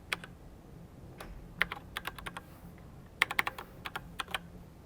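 Quiet tapping on a computer keyboard as a username and password are entered, the keystrokes coming in short irregular clusters over a soft, steady room hum.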